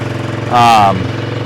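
A cheap $700 Marketplace vehicle's engine idling high, a close, steady, buzzing hum with a brief voice cutting in over it.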